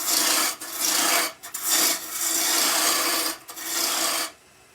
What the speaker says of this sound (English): So now let's go back to a roughing gouge.